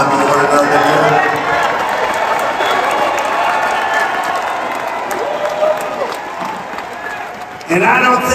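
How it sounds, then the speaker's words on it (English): A big crowd at a political rally in Glendale applauds and cheers for Robert F. Kennedy's introduction, a loud continuous roar of clapping and shouting that eases slightly, then swells again near the end. "I don't think I've ever introduced anyone that got applause like he just got."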